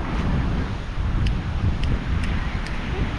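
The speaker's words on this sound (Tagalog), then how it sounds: "Malakas kasi ang hangin eh." Strong wind blows outdoors, buffeting the microphone with a dense, rumbling low roar that gusts steadily for a few seconds, with faint high ticks above it.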